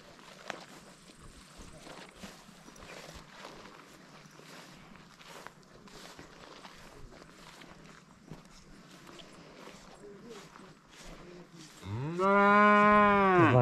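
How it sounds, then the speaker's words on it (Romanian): Cows graze in a pasture, with quiet footsteps and shuffling for several seconds before one cow lets out a loud, close, drawn-out moo at the end. "Văcuțele lui tata."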